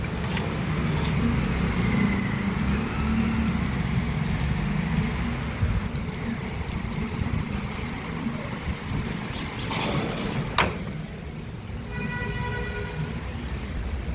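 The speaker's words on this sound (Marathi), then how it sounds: "बाहेर बघू शकता पाऊस सुरू आहे" Steady rain pours outside, a dense wash of hiss with a low rumble underneath, and a brief sharp knock near the end.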